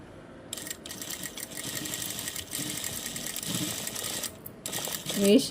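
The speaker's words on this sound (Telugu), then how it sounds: "చూడండి ఫస్ట్ నేను ఏ విధంగా అయితే స్టిచ్ చేస్తున్నానో చూడండి. ఒక స్ట్రైట్గా ఒక స్టిచ్ అయితే వేసేయండి." A sewing machine stitches torn fabric in a steady mechanical whir that stops and starts over several seconds, with someone talking over it.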